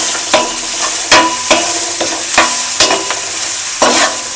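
Onions and chopped green chillies frying in a pan for egg pulao give a steady close sizzle, with a spoon scraping and stirring at regular intervals.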